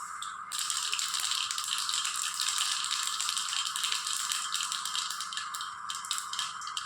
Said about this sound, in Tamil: எண்ணெய் ஊற்றிட்டேங்க. கடுகு போட்டுக்கிறேன்.